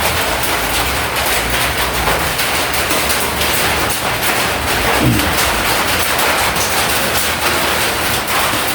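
Heavy rain pours down in a dense, unbroken roar of hiss and patter, loud and close for the whole stretch, with no one speaking.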